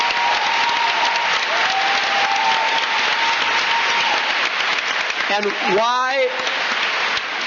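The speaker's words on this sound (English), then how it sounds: "aside from the applause we just got for it" San Francisco town hall audience applauding, sustained dense clapping at close range with a brief spoken word from a nearby voice over it toward the end.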